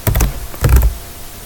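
Code being typed on a computer keyboard: two quick bursts of close, clacky keystrokes separated by a short pause, with no talking.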